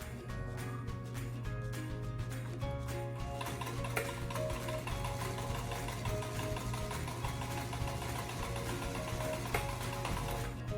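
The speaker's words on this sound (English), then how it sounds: "And sew it together like so." Home sewing machine stitching two pieces of fabric together along a seam, a steady rapid mechanical whir with fine ticking running throughout at close range, no voices.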